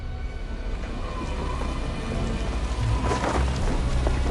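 A thunderstorm in a sci-fi action film scene: steady, dense rain pours throughout, and a deep thunder rumble swells louder in the second half.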